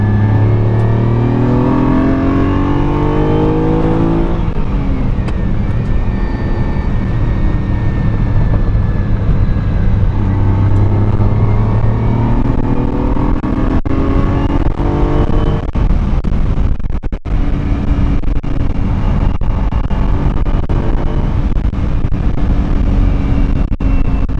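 A 1972 Ferrari 246 GT Dino engine pulls steadily while driving, a loud, continuous, close-up drone that climbs in pitch, briefly shifts around the five-second mark, and keeps running without a break.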